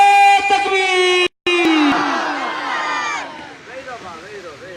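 A large crowd roars back a loud, sustained collective shout in answer to the Nara-e-Takbeer chant at a religious gathering, following a brief break, then fading into reverberant voices.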